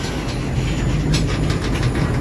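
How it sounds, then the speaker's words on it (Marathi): A train runs past at the new Beed railway line, a loud, close, continuous rumble of rolling wagons with faint rhythmic clacking and no talking. "तर आपण पाहू शकता सध्या ट्रेन चालू आहे."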